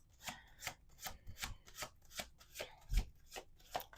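Tarot cards being shuffled in quick, rhythmic riffling bursts, close and fairly quiet, repeating about every half second.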